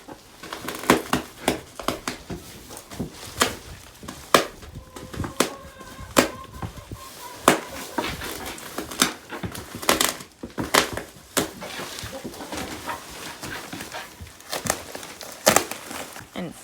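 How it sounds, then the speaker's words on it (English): A knife slits and tears open a plastic bag of straw in a barn, a long series of sharp crinkling, ripping and crunching snaps at close range, irregular and persistent. "I'm using the same killing weapon for the plastic bags, the knife to open it"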